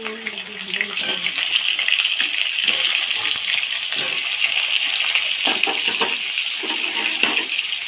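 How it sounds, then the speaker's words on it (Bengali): Salted potatoes fry in oil, a loud steady hiss and crackle close by with stirring scrapes throughout. "আলুগুলো দিয়ে দিই, আলুগুলো নুন দিয়ে ভেজে নিতে হবে"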